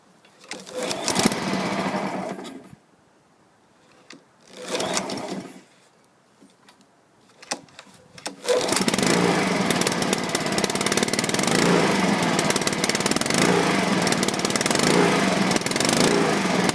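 Honda lawn mower with an automatic choke: two short engine bursts as the pull cord is yanked, a pause, then the small engine catches and runs loudly and steadily.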